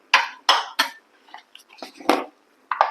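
A spoon knocking and scraping against a metal pot while almond paste is mixed into chicken korma, several sharp clanks in quick succession followed by softer scrapes, close and clear with no one talking.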